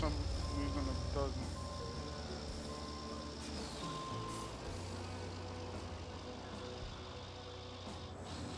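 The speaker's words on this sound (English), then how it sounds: "My crane wants to upshift, but won't for some reason it doesn't." A crane truck's diesel engine droning steadily in the video game RoadCraft, held at high revs without shifting up, with a continuous low rumble, faint beeps and clicks layered on top, while people talk over it.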